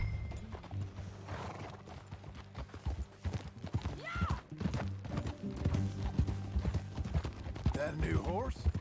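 Horse hooves clip-clop steadily across a ride in the video game Red Dead Redemption 2, with a neigh and low game music underneath while voices talk faintly in the background.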